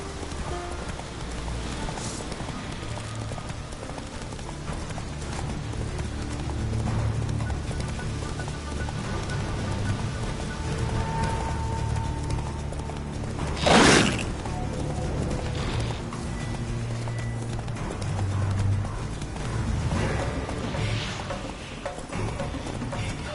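The horse Roach trots with soft, steady clip-clopping hooves in The Witcher 3 video game, set against a constant rain-like ambient wash, with a brief sharp swell near the middle.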